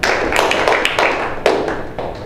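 An eighth-grade school band group claps a measure's rhythm together, a run of sharp, slightly ragged hand claps in a fairly close room.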